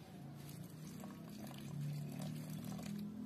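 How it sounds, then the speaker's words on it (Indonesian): Water pours from a can onto freshly planted flowers, a close, continuous splashing trickle that swells slightly toward the end. "setelah selesai menanam, jangan lupa kita siram"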